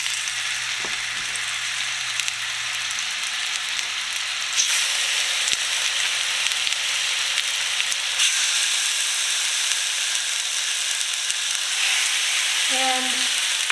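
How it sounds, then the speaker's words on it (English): Stuffed chicken breasts browning in a hot cast iron pan give a steady, close sizzle and frying hiss throughout, with a few faint clinks near the end. "I'm heating up my cast iron pan, and they're going to go in next. I'm going to brown them on both sides"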